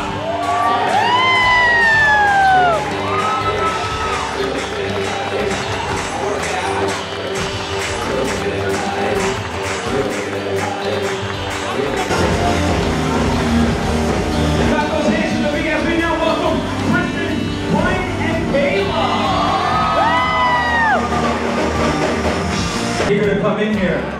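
Wedding guests clap and cheer at a reception as a couple is welcomed in, a dense, loud crowd noise with music-like tonal sweeps running through it.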